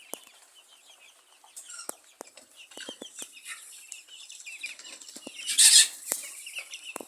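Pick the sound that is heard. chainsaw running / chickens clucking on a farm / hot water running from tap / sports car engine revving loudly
chickens clucking on a farm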